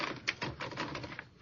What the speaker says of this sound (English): Take over this typewriter, and I'll dictate some paragraphs.